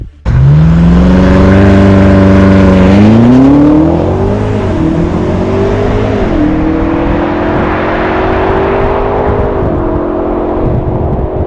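A 2021 BMW X6 M Competition pulls away under hard acceleration, its exhaust note climbing loudly and steadily through several gear changes before settling into a sustained cruising drone with road noise.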